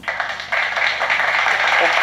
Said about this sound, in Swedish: Poff, nu kom den applåd där